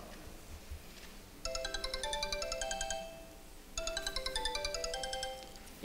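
A telephone rings in two bursts of a repeating electronic ringtone. Each burst runs about two seconds over a faint room background, with a short pause between them. The call is made during an infectious disease emergency response drill.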